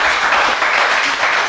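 Audience at a hip hop talk applauding, a loud, dense burst of clapping filling the short moment without pause.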